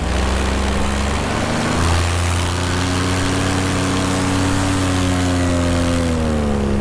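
Paramotor engine and propeller roaring steadily at high power during a one-step takeoff, loud and close throughout, the pitch rising slightly near the end, with no talking.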